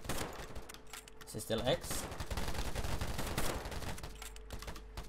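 Gunfire in the shooter video game Polygon, dense rapid shots and bursts at moderate loudness with a player's voice talking over them.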